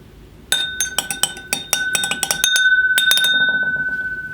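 A spoon clinking repeatedly against glass while single malt whisky is spooned out, a quick run of bright, ringing taps that let their tones hang and fade between strikes.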